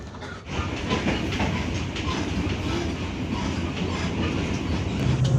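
The Matarmaja economy-class passenger train rumbles steadily along the rails from Jatinegara station toward Pasar Senen, Jakarta, with a continuous clatter and hiss, loud and close throughout, no voices.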